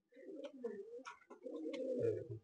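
Domestic pigeons in a loft coo in soft, low, rolling phrases, close and fairly quiet, with a fuller burst of cooing near the end.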